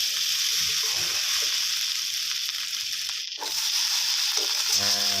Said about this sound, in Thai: ผัดไปเรื่อยๆนะครับให้แห้งๆนะครับ